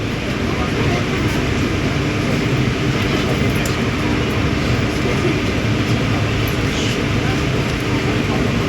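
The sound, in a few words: WAP7-hauled Intercity Express train accelerating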